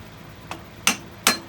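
A metal step center is knocked into a wood lathe spindle: one soft tap and then two sharper, louder metallic knocks, close and isolated over quiet room noise.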